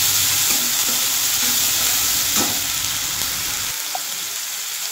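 Onion paste frying in a pan, a loud steady close sizzle with faint stirring scrapes, cutting to a quieter hiss near the end, no talk.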